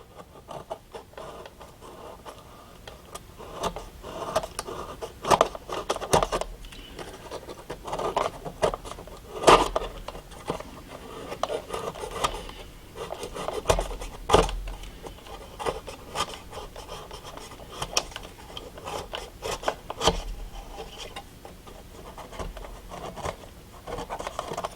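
Scissors or a hobby knife trim the ends of glued paper shingle strips on a model railroad structure. Soft, close cutting and rubbing sounds come in irregular bursts with sharper snips scattered throughout, and no one speaks.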